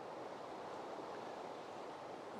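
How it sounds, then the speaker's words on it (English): Loud rushing water close to the microphone, a steady broadband roar like surf or a fast stream that continues unbroken from start to finish with no voices. "when you're close to water, it is very, very loud. You can probably hear it on the microphone."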